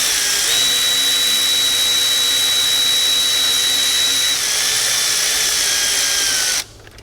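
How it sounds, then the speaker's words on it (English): Cordless power tool snugging down a bolt on the thermostat of a Dodge Ram 6.7L Cummins diesel, one loud continuous high whine close up for about six and a half seconds with a slight pitch drop partway, then cutting off abruptly. "I'm not torquing it down with my cordless tool. I'm just kind of snugging it down"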